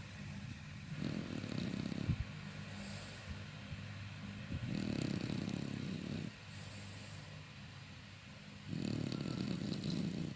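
An asleep French bulldog snores in slow, regular cycles, each rough, rumbling breath lasting a couple of seconds, close and fairly quiet, with softer pauses between.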